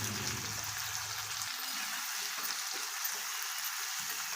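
Tomatoes sizzle steadily in a hot pan for a meal maker tomato curry, with stirring scrapes and a low rumble in the first moments, then an even frying hiss with no talk.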